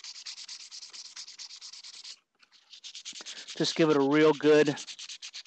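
Rhythmic back-and-forth strokes of sandpaper scuff a PVC/Sintra armor plate, pausing briefly, then continuing while a voice speaks over the rubbing.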